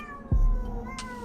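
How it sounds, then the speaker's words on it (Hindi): A cat cries outside at night, a drawn-out wailing tone with a low thump near the start and a brief brighter burst partway through, heard alone. "बाहर से किसी बिल्ली के रोने की भयानक आवाज सुनाई दे रही है"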